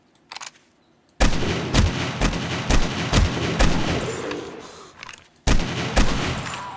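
Loud, close gunfire in the zombie survival game 7 Days to Die, with heavy booming shots fired in rapid bursts, a brief pause, then another volley.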